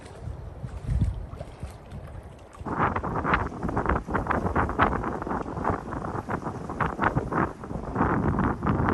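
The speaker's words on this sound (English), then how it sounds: "Wind just picked up." Wind picks up over an Algonquin Park lake during a solo canoe trip, and a gusting roar buffets the microphone alongside sloshing water and light flapping. It starts quieter and grows louder and steadier after a few seconds.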